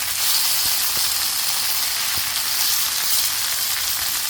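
Sirloin beef tips sizzling in a hot frying pan, a loud, dense, constant crackling hiss with a few faint clicks, close up and uninterrupted by speech.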